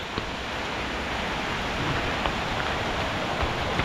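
Steady rain pours down outdoors during an evening of cast-net fishing for catfish, a dense, continuous hiss filling the whole stretch without pause, close and even in level.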